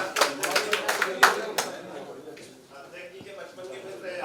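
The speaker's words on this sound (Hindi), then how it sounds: "एक बार तालियों के द्वारा स्वागत कर दीजिए अनिल शर्मा जी का" An audience at a Hindi literary gathering claps to welcome a guest, a brief burst of close hand claps that fades after about two seconds into quiet room sound with faint voices.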